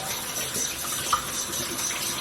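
Water runs steadily from a bathroom sink tap while a cleansing balm is rinsed off the face, a soft, even hiss of flowing water with a small splash midway and no talking.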